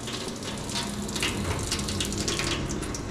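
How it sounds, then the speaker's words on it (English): A sink tap runs in a steady, fairly loud rushing stream with slight fluctuations, alone without voices, at a faucet just turned back on after the off season. "Oh, it's just the sink."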